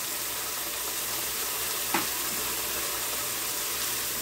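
Onion and garlic fry in a pan for a feijoada with ossobuco, giving a steady close sizzle with one brief knock or stir partway through.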